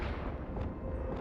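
Confringo blasting spell exploding in the Hogwarts Legacy video game, a dense, rumbling low-end burst that keeps booming steadily through the short moment without any talk over it.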